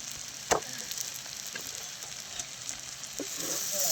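Cooked tomatoes sizzle steadily in a pan after black chili powder is added and stirred in, a constant close frying hiss with occasional light scraping taps from the spoon.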